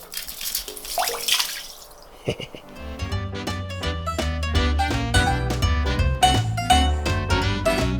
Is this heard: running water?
yes